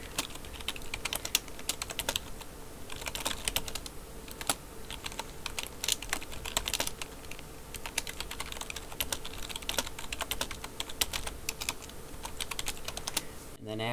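Fast, continuous clicking of a computer keyboard as a chat message is typed, with dense, close keystrokes and a few louder taps throughout.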